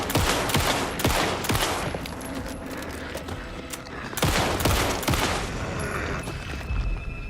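Rapid gunfire in Alan Wake 2, a dense volley of loud close shots cracking in quick succession, with a second burst of several shots midway over a low rumbling game soundscape.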